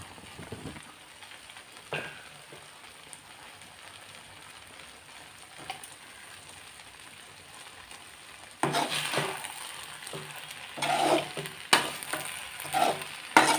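Grated coconut stirred and fried in a pan, starting as a quiet faint sizzle, then turning suddenly into a louder crackling fry with scraping stirs and irregular bursts, with no voices.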